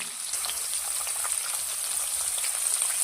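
Field beans (avarekalu) tossed into a hot pan for upma give off a steady, close sizzle with fine crackling hiss that holds evenly throughout, no voices over it.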